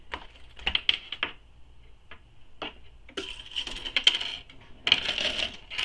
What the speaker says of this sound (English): Sorry about the zipper banging on the table.